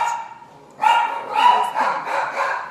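Several dogs bark and yip repeatedly in overlapping bursts, near and fairly loud, after a quieter opening.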